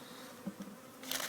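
Honeybees buzz faintly and steadily while being installed into a hive with a slide-in feeder, the drone low and continuous and swelling slightly louder near the end.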